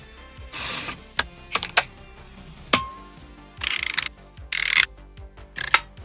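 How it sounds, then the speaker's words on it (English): A Pentax film SLR's manual hand-wound film advance lever ratcheting, giving several close, crisp bursts of mechanical clicking and whirring interspersed with sharp single clicks and quiet gaps, with no talk. "you could hear the sound of the manual winding mechanism, all the clicking and mechanical noises"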